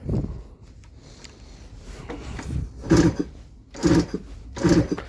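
A Honda CD 175 motorcycle engine being kicked or cranked over and failing to start, three close rhythmic bursts of turning-over churn that die away without catching.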